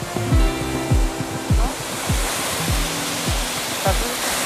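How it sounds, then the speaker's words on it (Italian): Rushing water of a mountain river near Lake Garda, a loud steady roar filling the whole clip, with brief low thuds and a faint voice now and then. "Senti questo scroscio."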